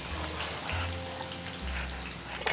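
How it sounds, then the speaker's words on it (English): Chopped onion sizzles in a pan with chopped chili and tomato, a steady close crackling hiss running throughout, with a low hum beneath. "I'm going to fry it a bit."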